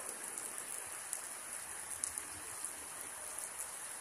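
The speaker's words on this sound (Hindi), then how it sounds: "यहाँ पे बहुत तेज बारिश हो रही है" Heavy monsoon rain pours steadily outdoors, a dense continuous hiss with occasional louder droplet hits and no talking.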